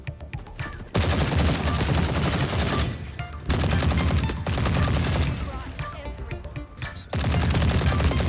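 Sustained automatic rifle fire in the shooter game The Forever Winter, long loud bursts of rapid shots broken by brief pauses, close and dominant with no talking.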